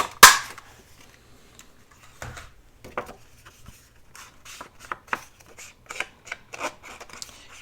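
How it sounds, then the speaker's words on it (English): Scissors snipping paper while making an envelope mini journal, a sharp loud first cut followed by a run of short, irregular clipping snips, close and alone without talk. "I'm going to cut me a little piece right there so I'll know not to close that"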